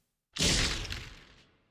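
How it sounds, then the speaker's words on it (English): A single explosion-like burst erupts suddenly, loud and broad, then rumbles and decays over about a second and a half. "Take an explosion sound"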